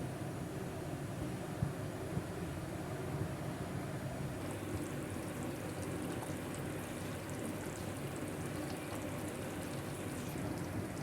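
Steady bubbling and simmering from a pot of curry, a dense continuous hiss with soft popping throughout, no voices.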